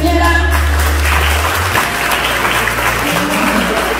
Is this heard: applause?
yes